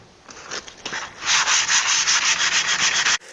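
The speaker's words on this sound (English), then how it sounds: "what I'm going to do is just hand sand this thing" Hand sanding of a wooden hammer handle, a quick run of rhythmic abrasive strokes that grows into steady, close, fairly loud scrubbing before stopping abruptly, with no talk.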